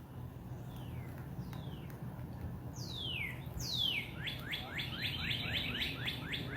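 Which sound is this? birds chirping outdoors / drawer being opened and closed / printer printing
birds chirping outdoors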